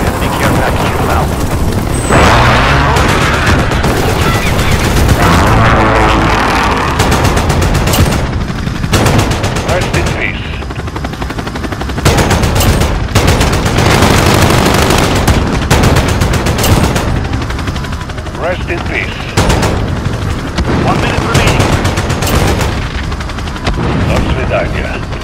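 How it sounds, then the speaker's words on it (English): Dense machine-gun bursts and rifle gunfire crackle through a Call of Duty Modern Warfare match, with heavy booms from a precision airstrike and a helicopter drone underneath; repeated loud volleys keep coming close and steady for most of the stretch. "Precision airstrike incoming."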